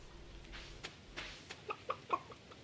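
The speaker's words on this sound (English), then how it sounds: "There's a chicken over there." Chicken in the video game Stardew Valley, giving a few soft, quick clucks that climb into a short rising burst near the end, close by over a quiet background.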